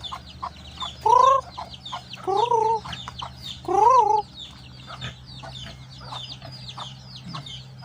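Chickens cluck and call in three loud bursts over a steady low hum, with quieter bird chatter continuing between and after.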